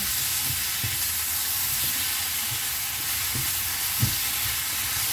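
Tomatoes and fresh chilies stir-fry in a pan for a chili paste, giving a continuous soft sizzle with occasional light stirring taps.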